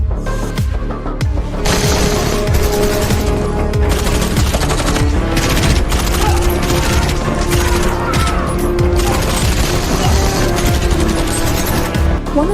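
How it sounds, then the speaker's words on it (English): Heavy gunfire in a film's bank firefight as a SWAT team storms the hall: loud, continuous bursts of automatic fire with sharp shots and booming impacts, dense and unbroken, with no talk. "As the SWAT team entered the bank hall, an intense firefight ensued."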